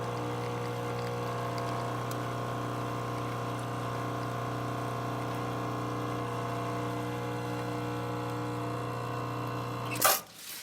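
An Expobar espresso machine pulls a single shot, its pump giving a steady, even hum with tonal bands for about ten seconds, then a brief louder burst and clunk near the end; no talking.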